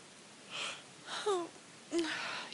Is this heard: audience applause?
no